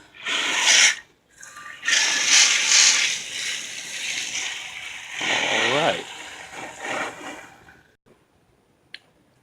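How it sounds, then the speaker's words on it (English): A garden hose sprays a hard stream of water over a car engine bay in several hissing bursts separated by short pauses, close and fairly loud, with a faint voice-like sound in the middle. "Just take your hose, start spraying it down."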